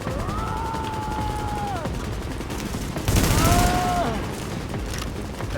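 Bursts of gunfire in a Tom Clancy video game firefight, a dense crackling volley swelling loudest midway, heard under a voice and sustained game tones.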